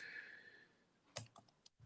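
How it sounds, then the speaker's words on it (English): Computer keyboard typing, a handful of quiet, uneven key clicks near the end after a faint fading tone, recorded at low level. "Are you typing it out? Because I am."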